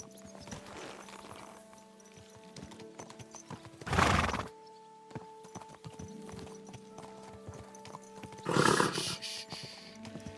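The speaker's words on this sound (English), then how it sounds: "Easy, good horse." Horse in the video game Kingdom Come Deliverance 2, steady clip-clop of hooves broken by two loud whinnying neighs, close and clear.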